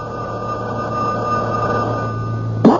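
Telephone ringing in a radio drama, a steady continuous electronic ring held for nearly three seconds at fairly loud level, cutting off abruptly with a sharp knock at the end; no talking.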